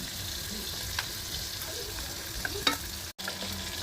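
Bay leaf frying in oil in a pan, a soft, steady sizzle heard up close at low volume, with a brief clink or two and a momentary dropout near the end.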